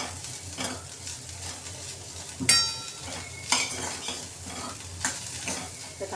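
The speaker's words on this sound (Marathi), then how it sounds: "आता आपण इथं कॉर्न घेऊया दाणे. आपण चांगले असं परतून घेऊ." Sweet corn kernels sauté in hot ghee in a pan, a steady sizzle broken by a few sharp scrapes and clinks of a spoon stirring, with no voices.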